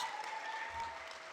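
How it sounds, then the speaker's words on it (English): An audience at a crafts tribute event gives a soft, distant round of applause for Sidney Pollack. The clapping is steady and brief, with no speech over it. "let's give Sidney Pollack a round of applause"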